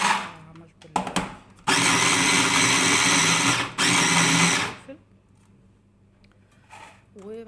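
An electric chopper whirs loudly as it minces chili peppers and garlic, with short bursts, then a long steady run that pauses and restarts briefly before cutting off into quiet.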